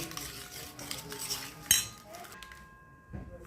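A metal spoon clinks and scrapes in a bowl, mixing mayonnaise with garlic sauce and hot sauce, soft stirring with one sharp clink midway and quiet moments after.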